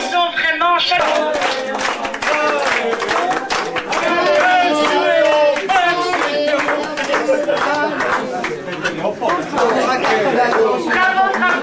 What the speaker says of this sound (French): nous les applaudissons vraiment chaleureusement